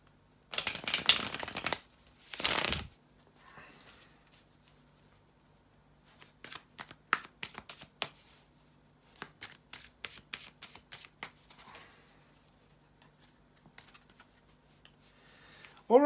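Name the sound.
shuffling tarot cards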